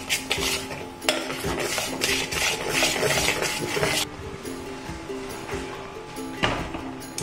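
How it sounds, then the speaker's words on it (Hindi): A spoon stirs dal-rice dhokla batter mixed with Eno and lemon juice in a metal bowl, giving close, loud, scraping and clinking strokes in a steady rhythm. A lighter, scattered clatter follows after a few seconds. "We'll mix it properly."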